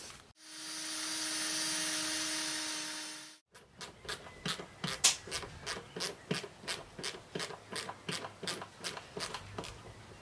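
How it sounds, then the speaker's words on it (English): A power drill whirs steadily for about three seconds, then cuts off, followed by a run of sharp, evenly spaced taps close by. "and drill a hole"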